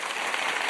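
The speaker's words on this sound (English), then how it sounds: "we'll do an applause" A short burst of crowd applause played as a sound effect, a dense wash of many hands clapping at an even level for well under a second.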